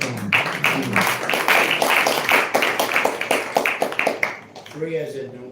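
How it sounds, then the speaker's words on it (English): Brisk round of applause from a congregation at a Krishna consciousness lecture, many hands clapping loudly for about four seconds before fading, after which a voice speaks. "Round of applause for Siddhanta Prabhu"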